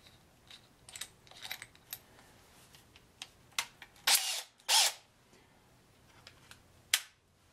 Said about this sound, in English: Drilling holes for the screws right now